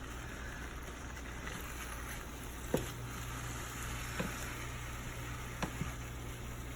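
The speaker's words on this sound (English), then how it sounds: "And then I'm gonna actually add some fried eggs." Organic cage-free eggs frying in a pan for egg fried rice, a soft steady sizzle under a constant low hum, with a few faint clicks from the pan and no talking.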